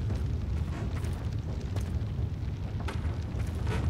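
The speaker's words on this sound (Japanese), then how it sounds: "爆発した" Explosion in the video game Shadow Warrior: a sustained, loud, rumbling blast with dense low-end roar throughout and a few sharper bursts on top, with no talk over it.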